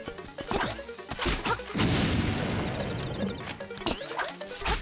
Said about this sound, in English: He just picks his head from the holes and throws bombs at us.